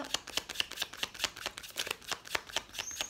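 Oracle cards for a tarot reading are shuffled by hand, a quick regular run of crisp riffling flicks, close and moderately loud with no speech.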